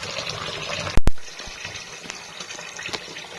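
Tap water runs into a cooking pot left to soak, a steady close gush of filling water broken by a sharp clank near the start, with no speech.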